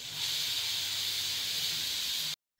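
A pressure cooker whistles with a loud, steady hiss of steam while mango pieces cook inside, holding for about two seconds before stopping abruptly.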